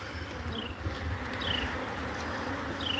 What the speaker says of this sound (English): I got a bunch of bees on the side.